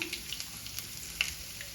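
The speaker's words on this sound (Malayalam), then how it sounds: "ഉള്ളി ഒന്ന് മൂത്ത് വരട്ടെ." Chopped shallots frying in oil with popped mustard seeds for a Kerala tapioca dish make a soft, steady sizzle with small scattered pops and crackles, fairly faint and with no voices.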